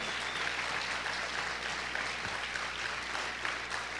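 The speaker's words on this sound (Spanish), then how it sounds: "Vamos a aplaudir fuerte a nuestro Dios." Steady applause from a church conference crowd, continuous clapping at an even level throughout, fairly loud and without breaks.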